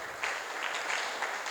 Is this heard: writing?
no